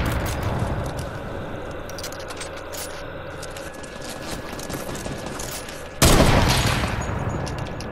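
Distant gunfire crackles through Fortnite game noise, then a sharp, louder shot or burst lands near the six-second mark and rings out.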